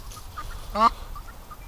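A single short, honking quack from a pet duck with an injured, taped foot, loud and close against a quiet room.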